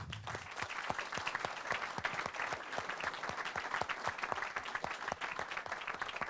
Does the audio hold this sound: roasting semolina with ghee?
no